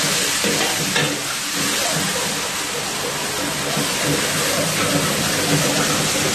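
Beef dry chilli with ketchup and dark soy sauce is stir-fried in a hot pan at a Karachi street-food restaurant, producing a dense, continuous loud sizzle with stirring and scraping throughout.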